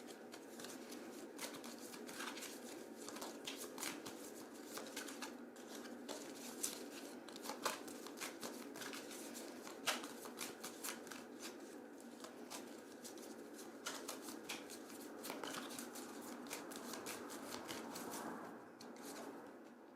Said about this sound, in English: I'm going to pull an oracle card.